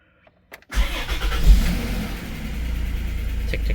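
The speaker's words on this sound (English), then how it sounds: "Tick, tick, tick, and then there she goes. Just like that, fires right up." A minivan engine cranks briefly after a short quiet start, then catches and settles into a steady, loud idle for the rest of the clip.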